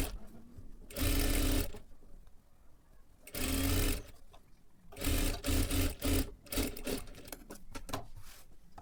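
A sewing machine stitches sleeve lining fabric in short bursts, running for a second or so, pausing, then running again in several quick runs, close and clear with soft handling noises between.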